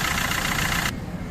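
A Maruti Swift engine with a loose, worn water pump runs steadily up close, a rough idle carrying a bright high-pitched squeal that cuts off near the end, leaving only the lower engine rumble.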